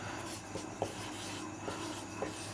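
Chalk or marker scratches across a classroom board as vector-math notes are written, light irregular strokes and taps over a quiet room hum.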